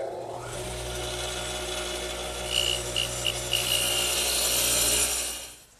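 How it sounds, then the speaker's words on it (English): Radial arm saw fitted with a dado head cutter spins up and bites into wood to cut tenons, a loud, close, steady whine with rising grinding that cuts off at the end. "to cut the tenons, I'm going to use my radial arm with the dado head cutter as before"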